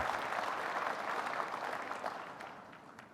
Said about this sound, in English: Oh, you don't have to clap.